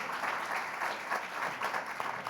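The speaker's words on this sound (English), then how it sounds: "A round of applause, if you would, please" Audience applause at a panel discussion on what Brexit means for young people, a dense steady patter of many hands clapping at moderate loudness without any talk.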